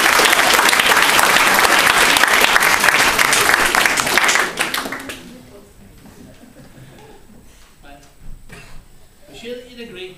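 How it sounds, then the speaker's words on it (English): Wedding guests break into loud, dense applause that holds for about four seconds, then fades to a quiet room with scattered murmurs and light movement. "So just give yourselves a round of applause for being here."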